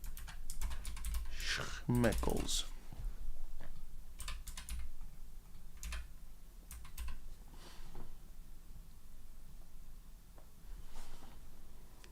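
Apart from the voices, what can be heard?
typing on a computer keyboard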